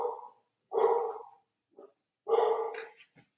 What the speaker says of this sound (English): There go my dogs.